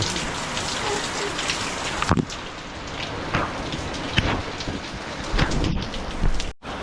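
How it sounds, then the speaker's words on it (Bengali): Heavy rain pours down outside a house, a dense, continuous hiss heard from indoors, with a few sharper splashes and bursts breaking through the steady downpour. "বাইরে প্রচণ্ড বৃষ্টি দেখো কীরকম বৃষ্টি হচ্ছে"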